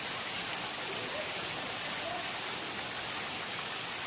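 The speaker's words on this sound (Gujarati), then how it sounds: "અતિશય વરસાદ પડવા માંડ્યો છે" Heavy rain pouring down on a flooded street: a steady, dense hiss that stays constant and fairly loud throughout, with no pauses.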